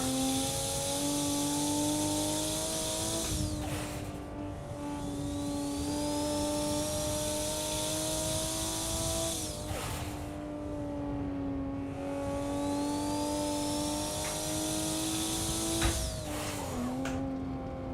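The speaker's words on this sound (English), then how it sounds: "I thought it was a nice drift as well" A Nissan Skyline R31 race car at Mount Panorama in a racing video game, its engine droning steadily close by with a few gear shifts and dips in pitch as it drifts sideways through corners.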